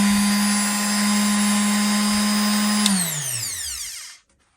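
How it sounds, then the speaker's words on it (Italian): A TILSWALL AJ23 delta orbital sander runs alone at a steady, close, continuous whine with a constant hum, then powers down and winds away into silence near the end. "la levigatrice accesa emette davvero un suono che non è assolutamente fastidioso rispetto a tanti"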